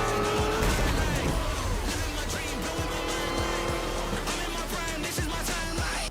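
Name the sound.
race cars driving in Forza video game trailer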